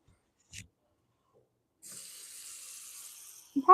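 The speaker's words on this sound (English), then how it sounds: "Okay, so I'm going to put some water in my pot." Tap water runs into a cooking pot at a kitchen sink, a steady hissing stream starting partway in after a brief knock, with a clunk at the end.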